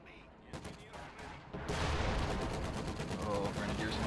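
Gunfire in the World War II strategy game Company of Heroes 2: rapid bursts of machine-gun and rifle fire crackle, then swell into a dense, continuous fusillade, with a voice talking over the battle.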